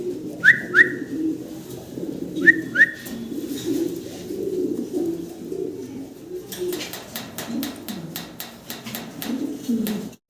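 Fancy pigeons at a farm coo in soft repeated low calls, with a couple of sharp chirps early and a run of clicking taps later, fairly close.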